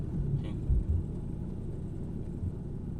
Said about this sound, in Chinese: 这个雪地胎的胎噪还是有点大的啊！